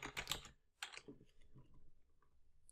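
Typing on a computer keyboard while entering a spreadsheet formula: a quick cluster of crisp key clicks, then a couple more after a short gap, close and fairly quiet, with no talking.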